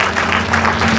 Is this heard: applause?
yes